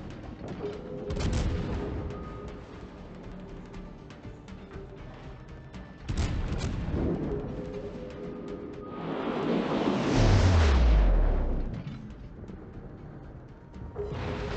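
Warship gunfire in World of Warships during a battle involving the Bismarck and Minotaur, several heavy booming salvos spaced seconds apart, with a longer rumbling blast near the end, loud and close.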